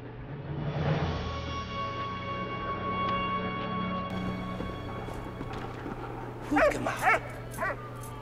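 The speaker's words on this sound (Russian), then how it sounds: "Да, я рад, что тебе нравится собачка." Dog barking, yipping and whimpering in the video game Valiant Hearts: The Great War, a steady whine through most of the stretch and a burst of several sharp barks near the end, moderately close.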